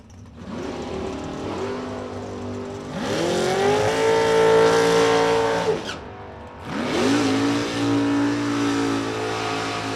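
Drag racing cars, a pickup truck and a Malibu, launch down the strip with loud engines roaring up in rising revs. After a brief dip, a second car surges and holds a strong, close, sustained drone.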